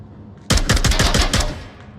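A close, loud burst of rapid automatic gunfire, about eight shots in quick succession, from a weapon in the VR shooter game Onward during a competitive world final match.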